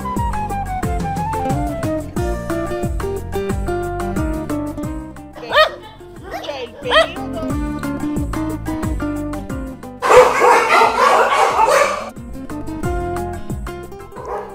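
Dogs yip and bark in a few short bursts at a modern dog shelter in Merlara, Italy. The barks come over steady, loud background music, and there is a brief noisy stretch near the end.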